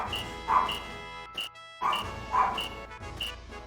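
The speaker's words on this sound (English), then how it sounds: "The dogs are agitated." Small dogs, a tiny Bichon and a Pomeranian, barking indoors, several sharp yappy barks in irregular bursts close by, with short pauses between them.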